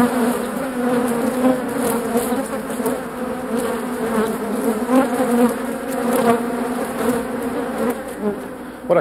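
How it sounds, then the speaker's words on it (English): A recreated swarm of 70 million bees, a dense continuous buzzing drone, steady and loud with shifting pitch throughout and no talk. "I asked them to try and recreate the sound that 70 million bees would make"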